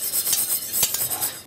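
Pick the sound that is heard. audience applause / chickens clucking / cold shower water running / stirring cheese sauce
stirring cheese sauce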